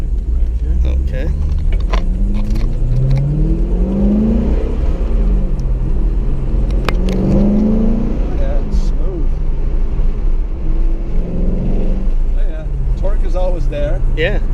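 A Chevrolet Corvette C5 Z06 engine revs while driving, loud and constant from inside the cabin, with rising and falling surges under people talking.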